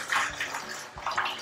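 Water poured into a container, about 300 ml, a sloshing, splashing pour in two bursts with a brief lull between them, close and fairly quiet.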